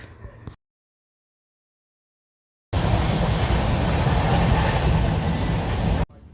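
Inside a moving train, a steady broad rumble and rushing roar fills a few seconds after an abrupt silence, loud and continuous without distinct clacks.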